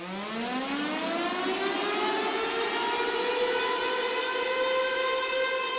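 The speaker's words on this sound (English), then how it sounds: "Definitely sounds better as a synth lead." A synth lead plays a sustained, bright note that glides steadily upward in pitch and holds, loud and continuous with no voices.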